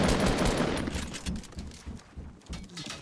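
Rapid gunfire rattles in Fortnite Battle Royale, loud in the first moment and then continuing as quicker, lighter bursts of repeated shots.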